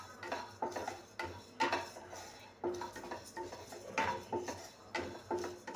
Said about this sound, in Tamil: கடைசியாக தனியா நல்ல செவக்க வறுத்தெடுத்துருவோம்.